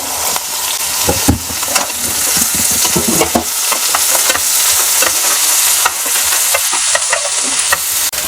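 Onions sauté in a pan in a home kitchen, with a loud, dense sizzle that holds steady and is punctuated by frequent scraping stirs and small spatters.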